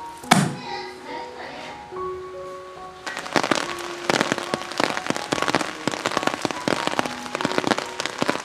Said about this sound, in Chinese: 我们这边又下雨了